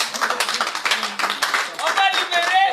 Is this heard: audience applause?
yes